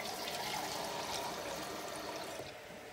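Water being poured from a container into a pot of rice, a soft continuous trickling stream that fades slightly near the end, quiet and unaccompanied by talk.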